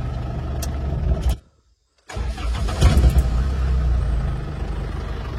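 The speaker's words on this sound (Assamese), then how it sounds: "ইঞ্জিনৰ চাউণ্ডটো ভাল হৈ আছে" A used commercial vehicle's engine cranks and catches after a brief silent gap, then settles into a steady, loud idle with a rough low rumble close by.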